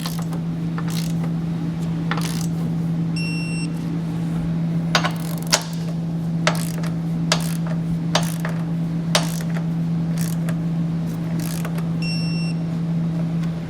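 Trailer hitch hardware on a 2021 Subaru is tightened with a torque wrench, giving repeated sharp metallic clicks and ratcheting ticks spread over several seconds, with two short beeps over a steady low hum and no talking.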